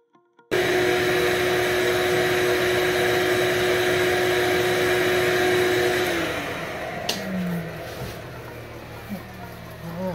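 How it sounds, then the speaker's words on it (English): A wooden cup spinning on a wood lathe while 220-grit sandpaper is pressed against it produces a steady loud motor hum with a high tone and a rushing friction hiss, which eases off and winds down in the final seconds. "Let me give it a rub down with some 220 sandpaper here."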